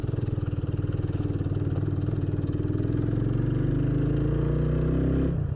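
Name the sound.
scooter motorcycle passing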